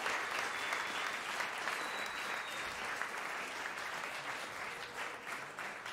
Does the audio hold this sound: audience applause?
yes